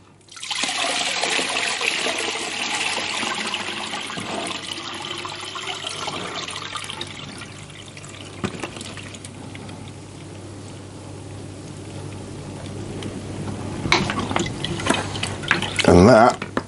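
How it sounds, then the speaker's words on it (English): Apple cider vinegar mash poured through a simple colander, a steady splashing pour of liquid and apple bits that fades to trickles and drips, with a brief clatter near the end. "and then I just pour the lot through."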